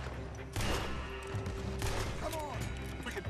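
Gunfire in Red Dead Redemption 2: a few sharp, loud shots and bursts crack out amid game ambience, with voices talking underneath.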